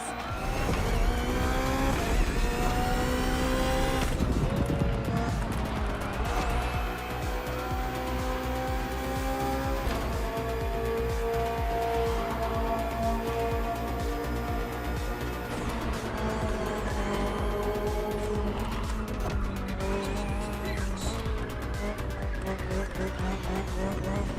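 A BMW M Hybrid V8 race car engine roars continuously at high revs in a racing video game, with gear shifts, rising and falling pitch, and tire squeals.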